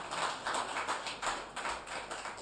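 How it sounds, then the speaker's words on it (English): Audience clapping at an education event, a dense, steady patter of many hands swelling and easing in waves, fairly close and filling the room, with no voices over it. "Yeah, you can clap for them."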